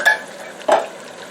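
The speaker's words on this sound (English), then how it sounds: "And I'll just keep stirring." Chili being stirred in a pot with chili beans, corn, cauliflower and onion, giving two short scraping swishes of a spoon a little over half a second apart over a low simmering background.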